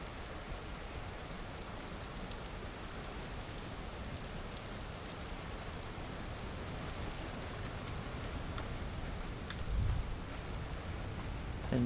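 Steady rain falls in the Vintage Story survival game, a dense, even patter of drops on surfaces that continues throughout at a soft, constant level with no voices.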